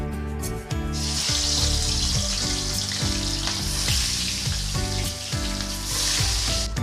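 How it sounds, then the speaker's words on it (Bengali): Loud, continuous sizzling and crackling of katla fish frying in hot oil, dense and hissy, with low background hum and no talking. "তেল গরম হয়ে গেছে এবার আমি মাছগুলো দিয়ে ভালো করে ভেজে নেব"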